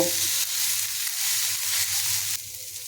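Vegetables coated with cumin powder and spices sizzle steadily in a hot pan while being mixed, a continuous close frying hiss with soft stirring scrapes and a slight drop in intensity near the end.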